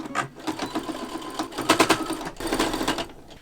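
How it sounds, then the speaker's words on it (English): A sewing machine stitches down the folds of a button-up shirt being upcycled, running in steady bursts with short pauses, close and fairly loud, with no talking over it. "I'm going to try and go over all the folds so all the folds are sewed down."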